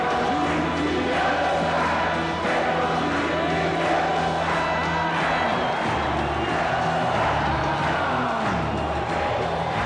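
A large rock concert crowd roars and cheers continuously, a dense wall of voices and shouts filling the space with loud, sustained energy.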